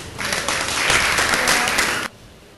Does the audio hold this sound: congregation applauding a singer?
yes